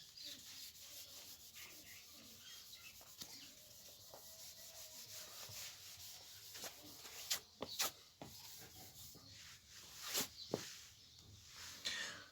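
Someone rubs writing off a board during a maths lesson: soft, irregular scrubbing strokes, faint at first and then louder brushing bursts toward the end, with no talking.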